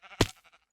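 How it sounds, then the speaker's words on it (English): A sheep bleats once in Minecraft, a short, loud, wavering cry in the middle of a quiet stretch, with faint game sounds on either side. "And some of the sheeps, too."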